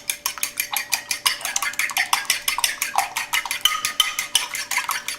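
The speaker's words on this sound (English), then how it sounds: "Let me get a fork. And we're just going to mix this up." A fork whisks eggs and cream in a bowl for a western omelette, a fast, even clatter of metal on the dish that is close and steady throughout.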